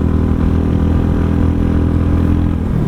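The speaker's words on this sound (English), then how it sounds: "I'm not sure if you can hear the exhaust in the microphone" Mutt motorcycle engine running steadily with a deep, continuous low exhaust rumble, loud and close, with no talking.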